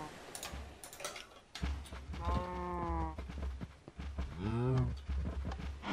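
Two bleating moos from cattle in Minecraft, each a drawn-out harmonic call, rise over clicking keyboard taps and soft game noise.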